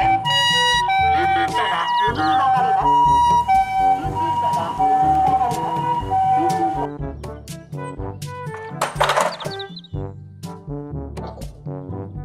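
Toy ambulance siren sounding alongside tinny electronic melody tones, steady and fairly loud, with a brief noisy burst near the end before the sounds thin out.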